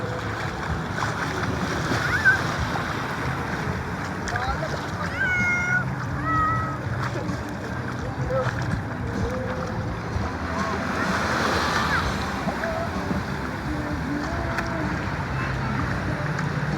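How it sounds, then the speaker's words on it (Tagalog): Strong sea waves at Matabungkay beach during a family vacation, with a continuous loud surf wash throughout while children and adults shout and talk over it. "Masyado malakas yung alon."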